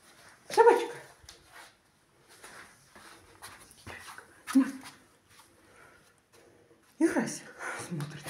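A dog at play, close by, gives a few sharp barks and yips with soft whimpers between them, spaced across quiet stretches, while someone speaks to it now and then.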